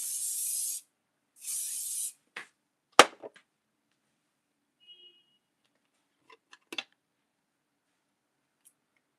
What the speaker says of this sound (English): You spray.